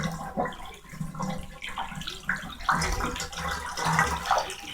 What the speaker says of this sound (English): you can let it drain for a really long time